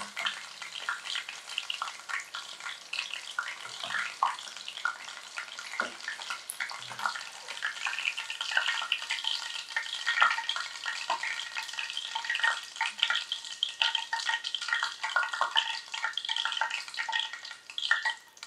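Chicken lollipops deep-frying in hot oil make a dense, continuous crackling sizzle with scattered pops. The sound is close and moderately loud and stays steady throughout.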